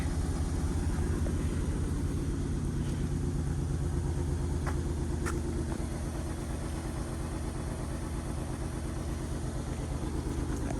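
An abandoned Honda Ridgeline engine runs steadily right after being revived, a loud close idle with an even low rumble and faint clicks on top throughout.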